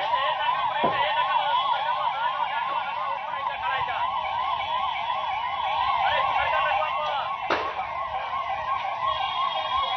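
Fire engine sirens wail in a fast, continuous up-and-down warble at a chemical factory blast in Dombivli MIDC, fairly close and steady, broken once by a sharp knock.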